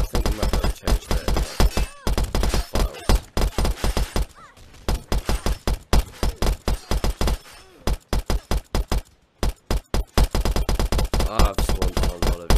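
Rapid, loud bursts of automatic gunfire in Blade & Sorcery: Nomad, with dense repeated shots broken by brief pauses, with occasional groans and thuds in between.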